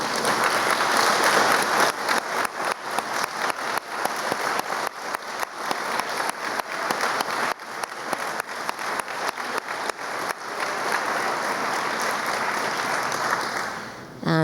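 Audience applause at a business awards ceremony, sustained clapping from a sizable crowd lasting over ten seconds before tapering off near the end.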